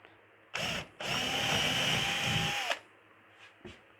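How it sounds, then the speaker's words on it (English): Power drill boring a hole in wood for model railway wiring: a short spin-up burst, a brief pause, then a loud sustained whine of about two seconds that cuts off, followed by faint small knocks. "and then grab your drill"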